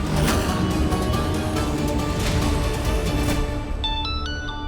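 A dense, loud background of music fills the clip, and near the end a phone rings with a series of repeated electronic tones in short, regular bursts.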